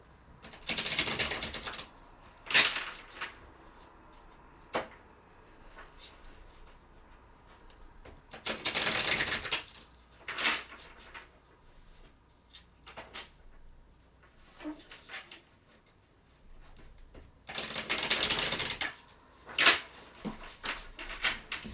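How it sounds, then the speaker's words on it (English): Tarot cards being shuffled in several short riffling bursts, close and crisp, separated by quieter pauses with faint handling noises. "so let's shuffle a little bit and see why you're seeing 333"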